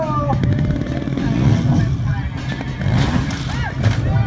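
Motorcycle engine revving and roaring loudly and steadily through a stunt ride, with a crowd's babble and voices underneath.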